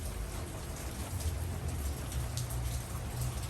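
Steady rain falls over Los Angeles, a dense continuous hiss of drops on surfaces with a low rumbling undertone, even and fairly close throughout with no voices.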